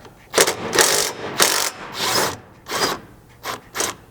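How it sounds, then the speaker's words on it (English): A 15mm socket wrench ratchets on a bed pivot nut during a Polaris Ranger rear bumper install. Repeated short bursts of crisp, close clicking come in an uneven rhythm, with no talk. "I'm going to start by grabbing a 15mm socket and wrench and removing the nut side."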